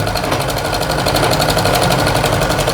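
A home sewing machine stitches cloth at high speed, a steady loud rapid mechanical whir and clatter running continuously with no talking.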